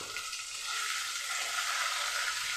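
Tomatoes fry in a pan with a little salt added, giving a steady, close, continuous sizzle that builds slightly louder through the clip with no voices over it.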